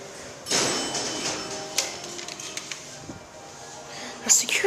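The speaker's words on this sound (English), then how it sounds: "The door takes a long time to open." Big, tall hydraulic service elevator doors slowly slide open, a long sustained rumbling whoosh with scattered clanks and a sharp clatter near the end, moderately close in a quiet corridor.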